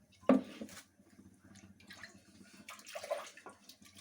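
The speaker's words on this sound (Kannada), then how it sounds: "ನೀರು ಹಾಕಿ" Water is poured into a sambar mixture in a home kitchen, opening with a brief splash followed by softer trickling and sloshing that stays moderately close and low in level.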